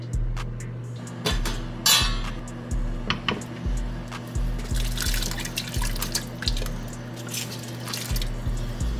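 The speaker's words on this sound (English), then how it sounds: "So we're gonna go ahead and drop all of this in the pot." Birria ingredients dropped into a cooking pot, giving a run of repeated wet plops and thuds that are fairly close, with a steady low hum underneath and no talking.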